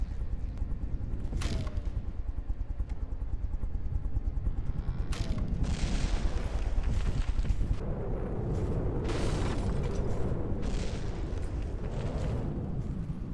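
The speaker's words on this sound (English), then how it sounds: "That's a lot of missiles." Missiles exploding in the naval combat game From The Depths: a dense, continuous barrage of booming blasts and crackling bursts, with several louder impacts standing out, all at a fairly even, sustained level.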